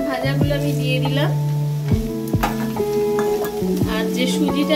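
Fried peanuts drop into a pan of sizzling beans, carrot and potato, a loud close frying hiss broken by the scrape and clatter of a stirring spoon against metal.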